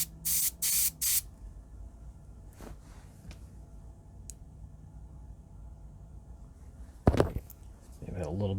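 A spray gun lays down thinned gold paint in three short, loud hissing bursts close by, followed by a long quiet stretch. Someone speaks later on.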